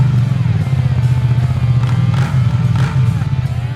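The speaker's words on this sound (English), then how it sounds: "we had these beautiful T120 exhaust cans that we plonked on this one. You gotta hear these pipes" Royal Enfield Interceptor cafe racer fitted with T120 exhaust cans, a loud steady low engine rumble idling and blipping throughout, with faint clatter over it.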